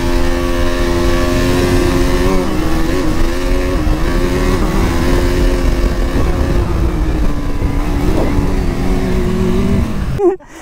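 A motorcycle at a drag race revs hard and holds a loud, close, droning engine note with pitch shifts for about ten seconds before cutting off abruptly.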